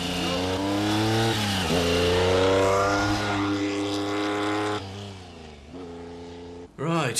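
A car engine revs and drives close by, rising and falling in pitch with a steady harmonic drone that drops off near the end, while people talk over it.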